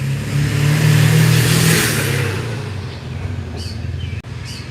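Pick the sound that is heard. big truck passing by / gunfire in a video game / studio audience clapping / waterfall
big truck passing by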